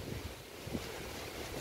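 Strong storm wind roars and buffets the microphone outdoors at a rural home as the sky darkens, a steady rushing blast with no talk.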